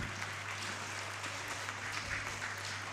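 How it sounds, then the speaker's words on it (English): Children clap at a school book release event, a faint, continuous wash of applause heard from a distance over a steady background hum. "Clap your hands, children."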